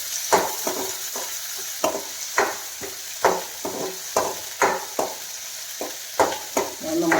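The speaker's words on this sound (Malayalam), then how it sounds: "വെളിച്ചെണ്ണ ഒഴിച്ചിട്ട് നമുക്ക് കുറച്ച് സവാള ഇടുക" Onions fry in coconut oil for a traditional Kerala curry, a close hiss broken by regular scraping stirs of a spoon against the pan, roughly two strokes a second.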